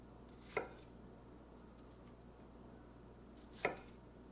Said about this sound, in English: you just take the knife, you decapitate the strawberry